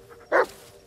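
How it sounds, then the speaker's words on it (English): A dog in the Blair Witch video game gives a single short, sharp bark, close and loud against quiet surroundings. "It's kind of cool how the dog, like, barks at it."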